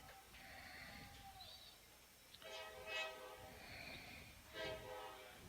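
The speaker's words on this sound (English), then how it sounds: "And the train is coming through." A train rolls past a minor-league baseball stadium during a game, its horn sounding in long blasts over a low rumble of moving railcars, fairly distant and with no voices.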